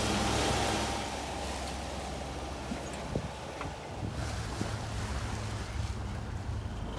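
A sailboat's engine, recently troubled, runs steadily with a low, continuous hum while gusty wind buffets the microphone on the way out of a bay, a heavier rush at the start and a few faint knocks later.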